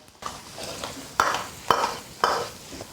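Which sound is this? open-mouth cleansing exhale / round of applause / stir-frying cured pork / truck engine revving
stir-frying cured pork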